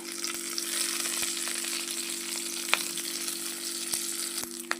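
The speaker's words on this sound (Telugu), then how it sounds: "ఈ తాలింపులోనే కొంచెం కరివేపాకు కూడా వేసుకున్నాము" Oil sizzles and crackles steadily as curry leaves fry in a hot tempering pan, a close, continuous frying hiss with occasional sharp pops.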